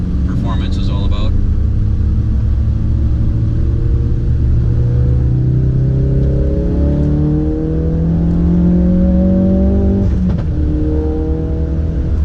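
A Ford Focus RS with an MRT cat-back performance exhaust pulls onto the highway, its engine note and road rumble rising steadily in pitch from inside the cabin, with a voice talking over it at the start.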